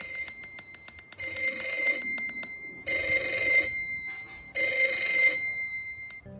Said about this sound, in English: Press alarm switch to turn the alarm off or on.